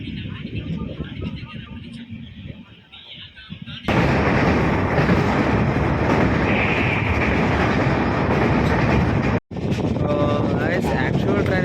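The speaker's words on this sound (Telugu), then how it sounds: "యాక్చువల్ ట్రైన్ అయితే చూడండి" A train passes on the railway near Kurnool, a quieter rumble that jumps to a loud, dense roaring clatter midway and continues with a brief dropout. Talk is heard early on.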